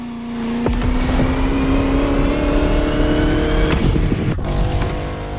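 A Bugatti La Voiture Noire, the all-black tribute to the Type 57 SC, revs loudly in The Crew Motorfest, its steady engine drone rising in pitch with a brief gear change near the end.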